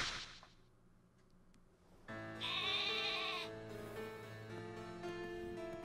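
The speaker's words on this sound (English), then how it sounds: "Okay, we've got a sheep." Wooloo, the sheep Pokémon from the video game Pokemon Sword, gives a single clear, wavering bleat at close range. Game music and ambience play before and under the call, and no one talks.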